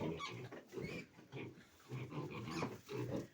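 A litter of piglets grunts and oinks in quick, overlapping bursts, close and lively, with a few higher squeals among the snorting.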